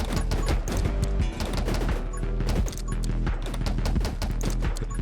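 Dense, continuous gunfire in the survival shooter game 20 Minutes Till Dawn, with rapid shotgun and magnum blasts overlapping into a steady loud barrage that runs the whole time, with no talk.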